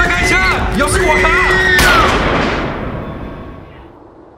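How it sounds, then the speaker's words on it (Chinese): A single loud gunshot rings out in a night-time horror drama at a sentry post, booming and then fading in a long echoing tail, with shouting voices heard just before it. "枪声响起"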